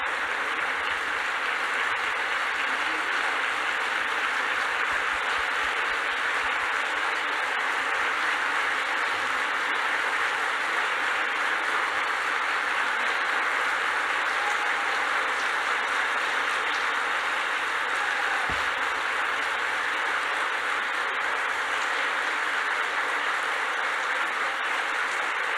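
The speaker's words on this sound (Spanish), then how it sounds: "Fuerte aplauso al doctor." An audience at a Eucharistic congress gives a long, steady round of applause for a speaker, a moderately distant, even wash of clapping that continues for over twenty seconds without talk.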